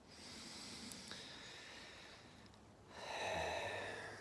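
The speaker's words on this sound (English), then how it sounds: "you can join me in taking a breath" Quiet, close breathing during a spring equinox seed ritual: a soft exhale, then a brief hush and a deeper inhale toward the end, with no talk.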